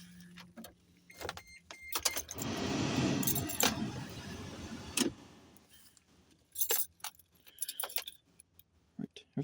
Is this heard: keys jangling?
yes